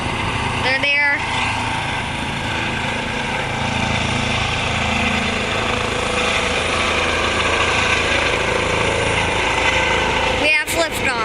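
A Stat medical helicopter lifts off at night with its searchlight on, a loud steady engine and rotor roar filling the whole stretch, heard nearby and continuous while people talk.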